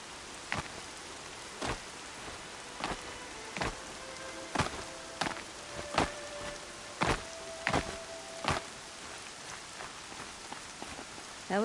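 Rain falls in the game Horizon Zero Dawn as a steady soft hiss, broken by a dozen sharp, evenly spaced cracks or knocks, with no one talking.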